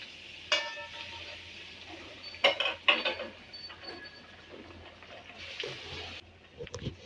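Fried potato fingers are lifted from a pan with a utensil, giving sparse metallic clinks and scrapes, a few sharper taps clustered together over a low background hum.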